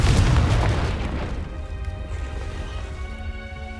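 Confringo blasting spell going off in Hogwarts Legacy: a loud, deep booming blast that rumbles up front and then decays into a long, lower roar with lingering tonal hum.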